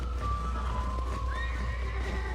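A horse in the Red Dead Redemption video game whinnies, a rising tonal neigh over a steady low rumble of game ambience and faint hoofbeats, with no talk.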